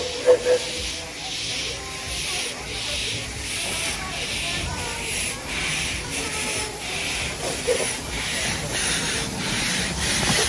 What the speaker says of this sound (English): this boiler is what creates all this steam.